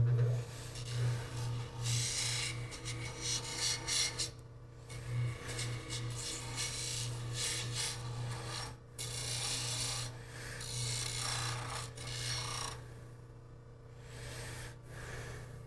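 A Scotch-Brite pad scrubs a freshly machined metal part in a machine shop, making a continuous close rasping rub in quick back-and-forth strokes with a steady low hum underneath.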